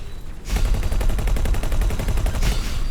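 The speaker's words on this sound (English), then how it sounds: "There is another ship shooting at me." Spaceship gunfire in the space game X4: Foundations, a rapid stream of evenly spaced shots that starts abruptly after a quiet moment and keeps up loudly and steadily.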